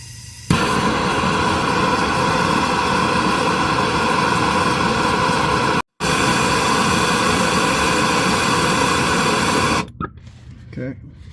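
Propane torch roaring steadily as it heats an exhaust manifold stud on a 1999 Acura RL during starter replacement, a loud continuous hiss with one brief cutoff midway before fading out near the end.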